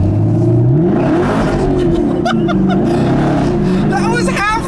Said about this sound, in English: That was half throttle from a stop, and it just basically did a burnout.